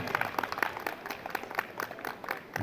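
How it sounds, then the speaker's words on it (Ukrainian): An audience applauds at a Green Holidays concert in Ivano-Frankivsk, giving a steady, moderately faint patter of many hands clapping that runs without a break. "давайте ще раз підтримаємо оплесками"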